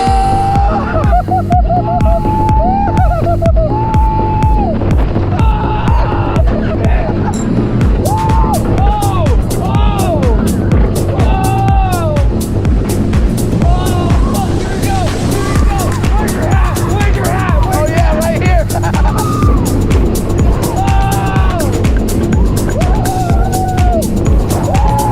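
Twisted Colossus, a racing wooden-steel roller coaster at Six Flags Magic Mountain, roars and clatters loudly and continuously along its track while riders close by shout and scream throughout the ride.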